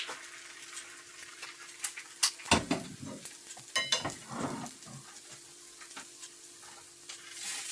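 Pancake batter sizzling in hot cast-iron frying pans: a continuous soft fry hiss broken by clinks and scrapes of utensils against the pans, with a louder pour-and-sizzle burst partway through, no talk.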